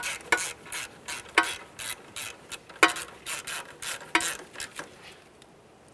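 Ratchet turning strut mounting bolts on a 2012-2015 Honda Civic front strut replacement, a steady run of quick metallic clicking strokes with four sharper, louder clicks spaced through, close and alone.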